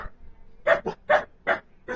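Dogs bark five times in quick, fairly evenly spaced succession, close and clear, with nothing else audible.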